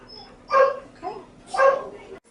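A dog at the vet lets out a few short close whimpering yips and barks, two louder bursts with a fainter one between, with little else around.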